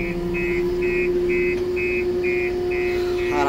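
A JCB telehandler's engine idles steadily while the machine reverses, with a regular reverse-alarm beep repeating about every half second over the constant drone.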